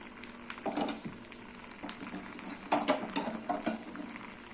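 Moringa drumsticks cook in a lidded pan, giving a soft, close bubbling and pattering with scattered small pops and sizzles at moderate volume, with no voices.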